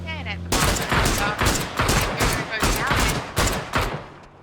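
Loud, rapid volleys of gunfire in a PUBG esports match, several dense bursts of automatic fire following one another in quick succession with only brief gaps between them.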